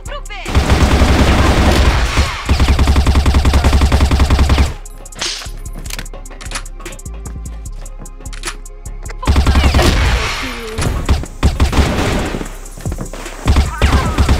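Loud rapid bursts of video game gunfire in a competitive shooter match, heavy automatic volleys with a quieter gap of scattered shots and clatter in between.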